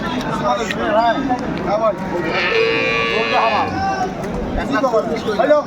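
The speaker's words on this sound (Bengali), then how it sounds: "দর্শক শুনলেন চমৎকার গাভী এবং বাছুর" At an Aftabganj cattle market, a dairy cow and her calf stand among a bustling crowd, with a drawn-out moo rising through near, continuous chatter from people talking.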